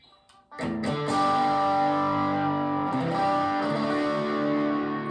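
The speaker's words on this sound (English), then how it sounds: "So just swap into the Strat then, just so kind of lowish gain, and just sort of see the difference." Fender Stratocaster electric guitar played at low gain, one strummed chord ringing out and sustaining loudly with a slight edge of breakup, heard alone.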